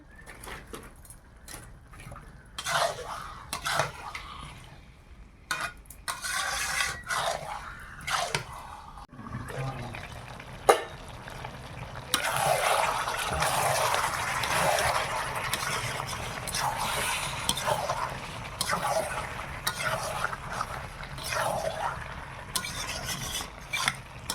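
Broiler chicken meat frying and being stirred in a pan, a steady rough sizzle with scraping strokes that grows denser and louder partway through, close by with no talk.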